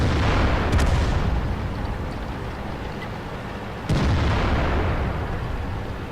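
Artillery shells strike in a tank battle video game. Two heavy booms land about three seconds apart, each followed by a long, loud rumbling roar that fills the scene, and no one speaks.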